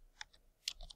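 Typing a file name on a computer keyboard: a few soft, scattered key clicks, close and quiet, with no talking.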